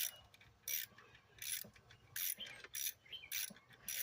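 A ratchet with a 5.5 mm socket loosens coil pack bolts on a 1996 Lumina, sounding as six quick, close, faint clicking bursts in an uneven rhythm with quiet pauses between, and no talking.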